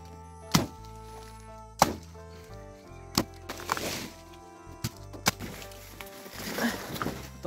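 A small banana tree is being chopped down in a village setting, with sharp, distinct thwacking blade strikes landing at irregular intervals, several of them close and loud against quieter rustling between the blows.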